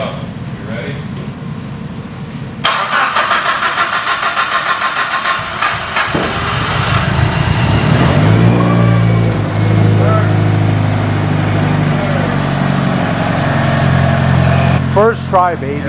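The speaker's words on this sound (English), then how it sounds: "First start after 4 months. First start, here we go." A Mitsubishi Evo 9 RS with a sequential gearbox, on a dyno after four months unused, cranks and fires. It then settles into a loud, rumbling idle with blips of revving while voices talk nearby.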